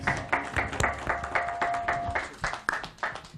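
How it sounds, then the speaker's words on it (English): Audience applause at a World Radio Day 2024 event, a steady patter of many hands clapping, fairly near and moderately loud, with a brief tonal hum in the background. "Let's also give her a round of applause."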